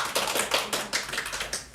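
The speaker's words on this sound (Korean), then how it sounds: "박수 한번 보내주셔도 괜찮아요" A small audience at a Won Buddhist temple service gives a brief, thin round of applause, with scattered claps in irregular bursts.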